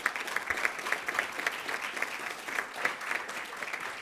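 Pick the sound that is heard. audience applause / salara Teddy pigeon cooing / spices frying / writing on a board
audience applause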